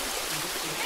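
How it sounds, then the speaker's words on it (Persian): A forest waterfall and stream pour in a steady, dense rush of water close at hand, alone without talk. "بالاخره رسیدیم به آبشار."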